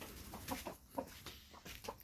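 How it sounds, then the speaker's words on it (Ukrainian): Chickens cluck softly in a few short calls, somewhat distant, over a steady outdoor background hiss. "Так, кури."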